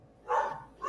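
Puppies give two short, bright yips a fraction of a second apart, fairly close and fairly loud, with no talk over them.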